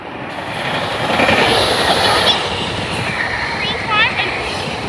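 A passenger train to Doylestown passes through Elkins Park station with a loud, steady rolling rumble and faint wheel squeals, while people talk over the noise.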